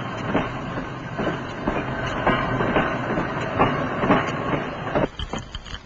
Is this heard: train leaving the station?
yes